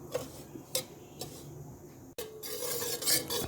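Bottle gourd payesh is stirred in its pot off the stove, with faint, quiet scraping and rubbing strokes at an uneven rhythm, close by.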